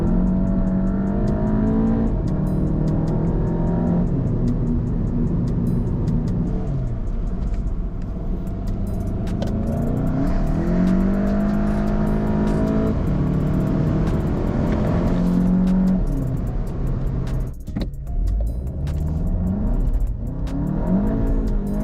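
A VW GTI running a Unitronic Stage 1 ECU and TCU tune accelerates hard, the engine note climbing through repeated gear changes with rising and falling pitch, loud and sustained from inside the car.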